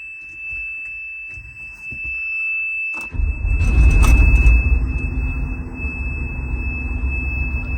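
A 1992 John Deere 1177 S2 combine harvester's engine cranks and starts after a quiet stretch, bursting into a loud, steady low diesel rumble that settles into an even idle, with a thin high whine running throughout.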